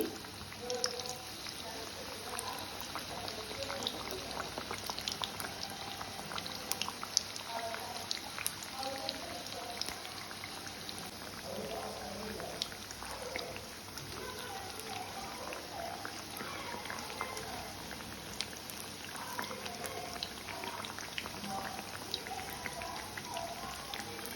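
Ridge gourd bajji frying in hot oil, giving a steady, dense crackle and bubbling sizzle that runs without a break, close by, with a faint voice now and then.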